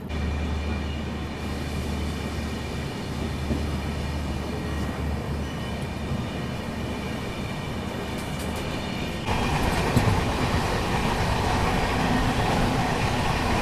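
Agartala Tejas Rajdhani express train running on the rails after leaving Patharkhola station in Assam, a steady loud rumble and rattle of wheels and carriages that grows slightly louder and brighter toward the end, with no voices.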